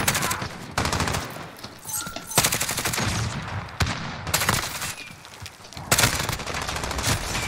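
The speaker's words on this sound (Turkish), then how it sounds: "Bizimkiler bana sıkıyor ki şu an" Call of Duty Warzone gunfire, repeated bursts of rapid automatic fire loud and close, separated by brief gaps, running almost continuously with no clear talk over it.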